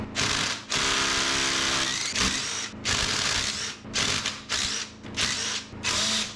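Rapid bursts from a power tool back out the six bolts holding the outer CV joint on a VW MK4 TDI, repeated buzzing runs with brief pauses, close and loud, with a ratcheting mechanical edge.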